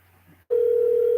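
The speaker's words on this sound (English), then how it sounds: "The phone is ringing." A telephone line tone sounds on a call, cutting in abruptly after a brief dropout and holding as a loud, steady electronic hum to the end.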